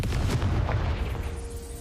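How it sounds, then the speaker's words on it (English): Fire-blast spell explosion in a video game, a short deep boom with a low rumbling tail that fades out over under two seconds, heard alone. "Confringo. Seems as if I should hang something there."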